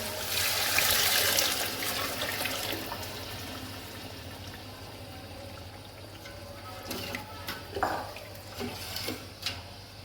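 Water poured from a glass into a pot for qeema pulao, a bright splashing rush at the start that fades into quieter kitchen sounds with a few clinks and knocks near the end, no talk.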